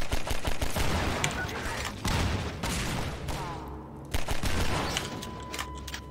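Rapid bursts of gunfire in the video game Half-Life 2, clustered shots firing in quick volleys with brief gaps, fairly quiet and mixed with game ambience.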